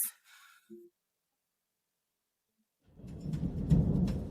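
Low thunder from a storm outside rolls in as a loud, rumbling swell after a few seconds of near silence, preceded only by a couple of faint, brief sounds.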